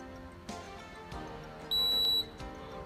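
A few soft clicks followed by a bright electronic beep of about a third of a second from a fingerprint scanner, fairly close and clean.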